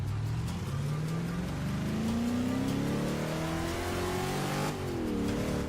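A 1969 Ford Mustang Boss 302 engine revs up hard and accelerates, its pitch rising steadily through the gears, loud and close, with a brief shift near the end.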